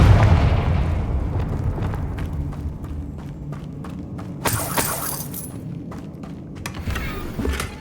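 A Confringo explosive spell blast in the Hogwarts Legacy video game booms at the start and rumbles away, followed by scattered crackling hits and a bright shattering burst midway, all without speech.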